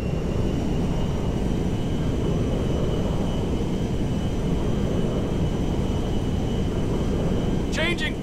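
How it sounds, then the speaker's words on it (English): A cargo jet in the video game GTA V comes in to land at McKenzie Field, its engines a loud, steady roar with a deep rumble that holds unbroken throughout, and a brief high chirp near the end. "We are now landing in McKenzie Field."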